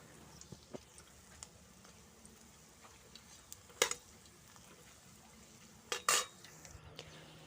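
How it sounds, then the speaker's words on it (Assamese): A spatula stirs okra fritters in a slippery, oily wok, giving faint scattered clinks over a low sizzle, with two louder metallic clanks partway through. "এতিয়া মই লাহে লাহে লৰাই দিম, উলট পালট কৰি দিম এইখিনি"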